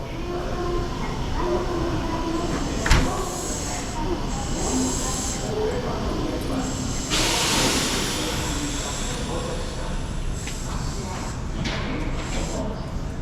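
Steady rumbling of a train in Osaka, Japan, with hissing air brakes and clanking wagons, a sharp knock partway through, and voices talking faintly underneath.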